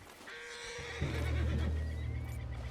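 A horse in Red Dead Redemption 2 lets out a loud, close whinny with a snorting breath over a low rumble of game ambience.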